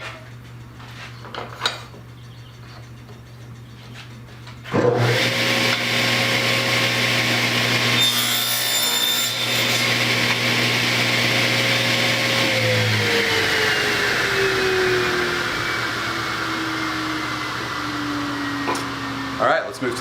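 A power saw cuts wooden stock pieces, 7/8 by 3/4 inch, to 13 3/4 inches long for an 8-frame screened inner hive cover. A loud, steady motor whine runs for about fifteen seconds, then the pitch slowly drops as it winds down.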